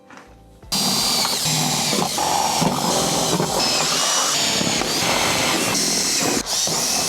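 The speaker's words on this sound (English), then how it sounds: "Time to do the drilling." A power drill runs loud and steady at close range, drilling holes in a Mazda MX-5 NC body for wheel arch installation, a continuous high whine with slight dips as the bit works through material.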